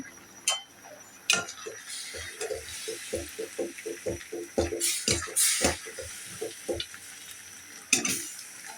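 Peanuts and fried rice grains stirred in a pan with a spatula, giving a steady run of close, dry scraping and clicking strokes in an uneven rhythm, with no talk.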